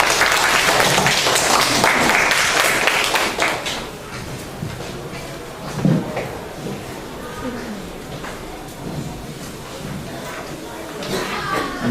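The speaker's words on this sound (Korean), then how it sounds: "큰 박수로 맞아주세요." An audience at a Korean lecture concert gives loud applause to welcome a student speaker, fading out after about four seconds, followed by scattered bumps and a speaking voice.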